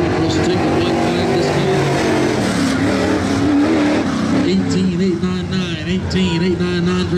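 Late model race cars on qualifying laps: a loud, sustained engine roar runs throughout, with the pitch rising and falling as a car passes. A commentator talks over it.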